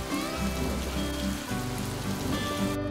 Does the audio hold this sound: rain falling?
yes